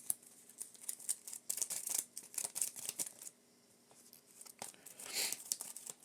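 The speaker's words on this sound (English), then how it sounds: "Going to shuffle it in." Marvel Champions living card game cards being shuffled, a steady run of crisp riffling and flicking close by, briefly quieter midway and then building again, with no talking.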